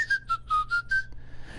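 A person whistles a short bright tune of about five quick rising and falling notes, close and clear, then a faint held tone trails off.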